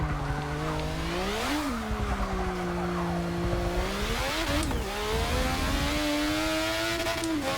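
A 1988 McLaren Honda MP4/4 Formula One car in Forza Motorsport 6, its high-pitched engine rising and falling through shifts and corners, with tyre squeal mixed in, loud and close, no voices.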